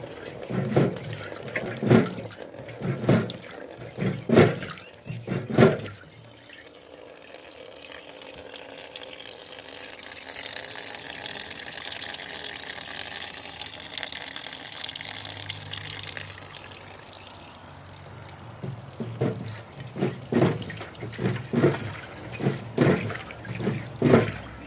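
Old fuel drains from a generator's fuel tank in a steady trickling stream through the middle, while knocks and nearby talk come before and after it.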